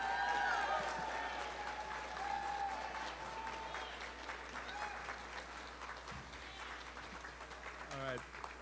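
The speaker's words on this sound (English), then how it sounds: "give Maria another round of applause for her courage" Crowd applause at an outdoor rally against gun violence, steady clapping spread across many people at moderate distance, with a speaker's amplified voice running over it and a brief thump near the end.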